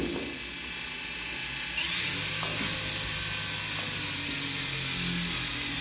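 A small XK K127 RC helicopter's electric motor whirs steadily, then jumps to a higher, louder mechanical whine partway through as the throttle comes up, with faint clicking ticks over it.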